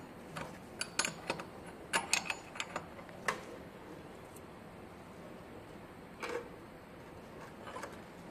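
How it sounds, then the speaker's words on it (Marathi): Tightening a gas regulator onto an oxy-acetylene cylinder gives a few faint metallic clicks and ticks in short bursts, then a brief scrape, all quiet against a low room hiss. "अशा प्रकारे आपण हा रेग्युलेटर या ठिकाणी घट्ट करून घेऊ"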